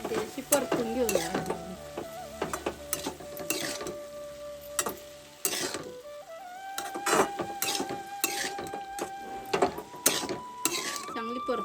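Wild greens seasoned with salt are stir-fried in a pan: a soft continuous sizzle under sharp, irregular scraping clacks of a stirring utensil, with steady faint tones humming in the background.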